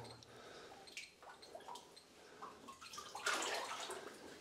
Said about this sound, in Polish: Ze stropu kapie woda